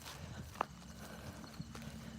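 Hooves of a mare and her daughter clip-clop faintly on a horse walker, a few scattered, distant hoof strikes over steady background noise with no talk.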